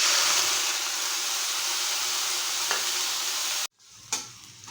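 Onions and green chillies sizzle loudly and continuously in oil for a yardlong bean stir-fry, then the hiss cuts off abruptly, followed by a single sharp utensil knock over quieter frying.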